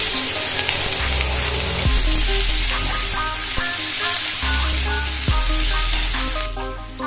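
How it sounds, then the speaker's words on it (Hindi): Chopped onions fry and sizzle steadily in a pan while being stirred, with the hiss broken by a few scraping strokes, close and continuous with no talking. "बाकी सारा जो इसमें मैंने प्याज वगैरह डाला था ये फ्राई हो गया है"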